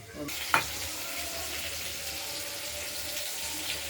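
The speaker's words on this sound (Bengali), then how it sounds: "মশলাটা আমরা দিয়ে দিলাম কষানোর জন্য হলুদ আগে দিয়ে দেওয়া হয়েছিল মশলাতে" A wet spice paste mixed with turmeric frying in a pan for a fish curry, a low steady sizzle after a single sharp clink near the start, close but quiet with no talking.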